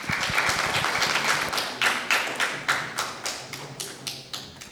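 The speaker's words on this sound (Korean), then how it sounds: "여러분 큰 박수 부탁드립니다." An audience in a hospital health lecture hall applauds as the hospital director is welcomed to the stage, with steady clapping that swells and then trails off into a few scattered, separate claps.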